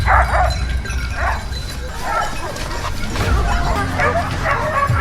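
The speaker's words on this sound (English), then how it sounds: "Dogs barking, gunshots, and the boars' cries blended together." Several dogs bark and yelp repeatedly in an outdoor wild boar chase, with a steady rumbling noise underneath and the barks coming in quick irregular bursts.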